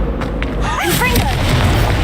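Booming fire spell explosion from Hogwarts Legacy, a loud low blast with crackling burst and rumbling tail lasting about two seconds.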